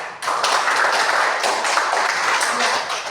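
Classroom applause fills the room, a dense steady patter of many hands clapping at once, loud and close throughout with no pause.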